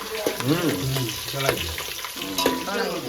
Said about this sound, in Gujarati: હવે જો મરચા બરચા તળે છે